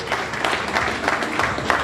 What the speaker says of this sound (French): si vous avez des applaudissements à faire, c'est à eux que vous devez aller